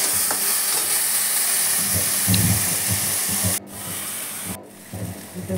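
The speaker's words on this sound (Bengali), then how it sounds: "এই যে মোচাটা দিয়ে দিয়েছি, দেওয়ার পরে একটু নাড়াচাড়া করে কষাতে হবে।" Chopped banana flower stirred and frying in a pan with steady broadband sizzle and hiss, scraping stir strokes in the low end, and two brief breaks in the sizzle near the end.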